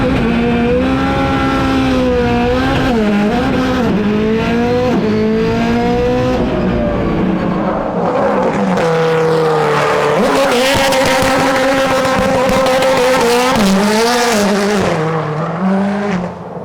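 A gymkhana car revs hard and blasts down a straightaway on a dirt-strewn course, its loud engine note climbing and holding through the gears close by, with a brief lull before it surges again.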